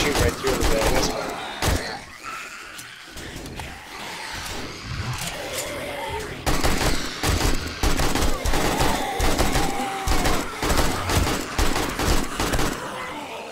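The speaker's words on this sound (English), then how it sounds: "I guess we shoot right through the bag." Gunfire in the video game 7 Days To Die, sharp shots fired in quick bursts and volleys, loud and close, mixed with thuds and game noise while a person talks over it.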